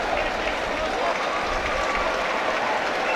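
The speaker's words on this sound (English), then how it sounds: "There's such a din in the stadium." Loud, continuous roar of a large stadium crowd at a rugby sevens semifinal between Argentina and South Africa in Port Elizabeth, a dense wash of cheering and chatter with no pauses, and a voice talking under it.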